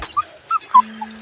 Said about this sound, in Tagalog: mga makukulit na aso.